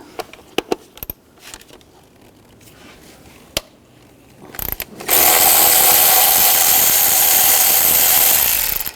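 Socket wrench removing a 10mm bolt during spark plug replacement on a 2010-16 Buick Lacrosse: a few faint clicks and taps, then from about five seconds a loud, steady whirring of a power tool that runs continuously to the end.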